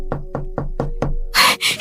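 Knuckles rap on a door in five loud, evenly spaced knocks, followed by a rustling burst of noise.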